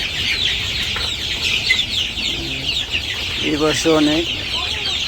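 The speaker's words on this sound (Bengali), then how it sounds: "এই যে কত মুরগি।" Chickens cluck repeatedly in a noisy poultry farm shed, their calls close and layered over a constant background din, while someone speaks briefly.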